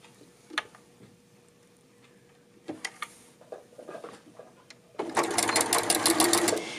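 A sewing machine stitches a neckband on a tunic, first a few scattered clicks and handling knocks, then a loud, steady rapid run of stitching in the final seconds, close up.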